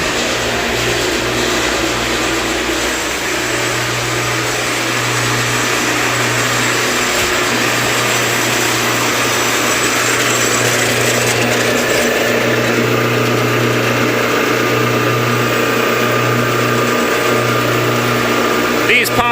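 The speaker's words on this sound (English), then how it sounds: "we have two vacuum pumps." Two vacuum pumps run in a dairy milking parlor during a pipeline wash, a loud, steady mechanical drone with a pulsing low hum that continues throughout, with voices talking at times.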